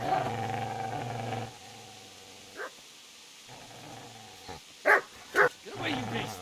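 A dog in the medieval game Kingdom Come: Deliverance gives a few short, loud barks and growls close by, in bursts between stretches of shouting voices.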